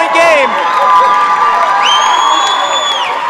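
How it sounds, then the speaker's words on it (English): Home crowd at a high school basketball game, Hazen against Montpelier, roaring and cheering loudly and continuously, with shrill whoops and whistles rising above the din. "This Hazen crowd has came unglued"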